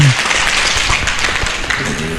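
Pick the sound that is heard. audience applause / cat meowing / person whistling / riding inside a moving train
audience applause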